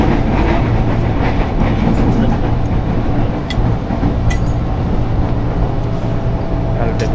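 Steady rumble of a passenger rail carriage on a journey toward Baduy, a continuous loud rolling drone with faint clacks and occasional brief high squeaks, no break in the noise.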